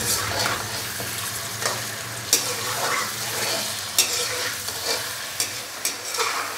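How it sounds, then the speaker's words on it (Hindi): Chicken sizzles steadily in hot oil in a karahi, with a spoon stirring and occasionally clinking against the pan, close and continuous with no talking. "चिकन डालने के बाद मैंने ऑयल के अंदर चिकन को 5 से 7 मिनट बहुत ही अच्छे से कर लिया है फ्राई"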